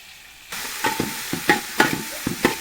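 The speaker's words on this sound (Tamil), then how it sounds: "உள்ளி தக்காளி வதக்கியாச்சு" Onion and tomato sauté in a pan, with a steady sizzle broken by several scraping stirs of a utensil, close and fairly loud.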